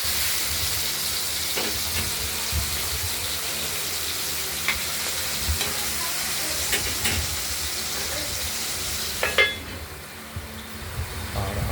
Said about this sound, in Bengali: বেলে মাছটাকে ভেজে নেব